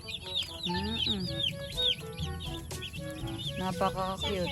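Dozens of broiler chicks peep constantly in a rural cage warmed by a lamp, a dense chorus of high chirps heard close up while a person talks over them.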